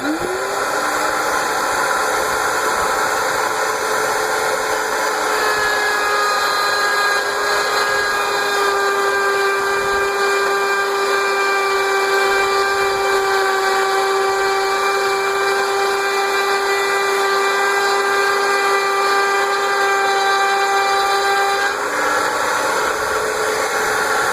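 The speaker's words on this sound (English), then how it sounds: "Right now I've got the router turning on over here, so let's give it a whirl" A router spinning against wood at a router fence, a loud, sustained high whine with steady tones held for about twenty seconds, dropping in pitch briefly at the start and again near the end.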